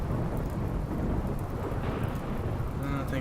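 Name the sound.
rain and thunder in the video game Rimworld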